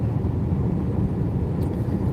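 Heavy truck rumbling past on a provincial road between Manaoag and Urdaneta, a steady loud low drone with no pauses, as if heard from inside a moving vehicle.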